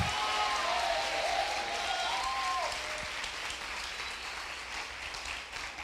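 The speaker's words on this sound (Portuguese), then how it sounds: "Se esse aplauso é para Jesus, pode ser mais forte e misturado com glória a Deus." Church congregation applauding for Jesus at a congress service, with a steady wash of clapping from a large crowd, moderately distant, with a brief sung or spoken tone near the start.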